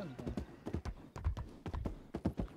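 Hooves of a Morgan horse clip-clopping in the Red Dead Redemption video game, a steady run of close, moderately loud taps with a faint voice underneath.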